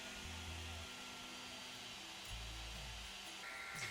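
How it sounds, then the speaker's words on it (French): A 3D printer starts a print, giving a steady whirring fan hum. Stepped motor tones shift, glide and switch on and off at close range, with no voices. "Et ça y est, l'imprimante démarre."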